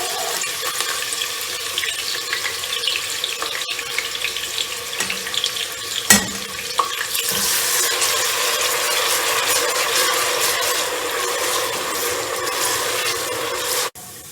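Chopped onions and green chillies frying in half a cup of oil give off a loud, steady hiss and crackle. It stays even and continuous throughout, then cuts off abruptly at the end.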